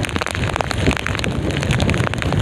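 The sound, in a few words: heavy rain at sea on a boat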